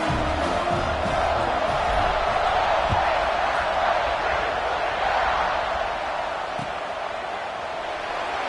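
A football stadium crowd roars at kickoff, a broad sustained cheer that fills the space at steady loudness, easing slightly toward the end.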